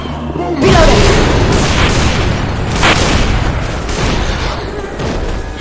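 Gunfire and booming explosions in Left 4 Dead 2, a dense, loud barrage of shots and blasts running continuously, with voices calling out over the chaos.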